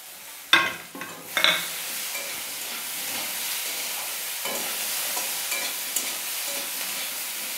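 Chopped onion dropped into hot oil in a pan, with a few sharp sizzling bursts that settle into a steady, loud frying hiss.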